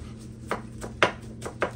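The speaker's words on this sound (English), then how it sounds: "I'm gonna chop this up." A knife chops spinach on a chopping block in a home kitchen, with a few sharp, separate thunks spaced roughly half a second apart against a faint low hum, close and with no talking.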